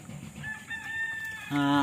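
A farm rooster crows once, sharp and fairly close, with a drawn-out harmonic call rising at the end after quieter clucking and faint background voices.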